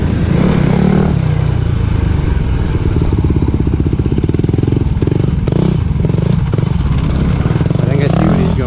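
Dirt motorcycles ride across muddy hills at a construction site, with a loud, steady engine drone and rapid rhythmic revving throughout, plus occasional clattering thumps.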